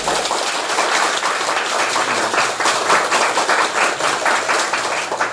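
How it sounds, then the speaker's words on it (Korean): Audience at a parenting education lecture clapping together, a loud, even burst of applause lasting several seconds with little talk. "자, 박수 한번 쳐볼까요?"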